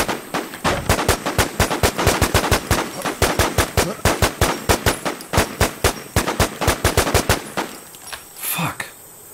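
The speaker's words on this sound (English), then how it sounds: "Heard some shots." Rapid bursts of automatic gunfire from distant players in the survival game War Z, dozens of sharp shots rattling in quick succession for several seconds, then stopping. Near the end there is a brief louder sound.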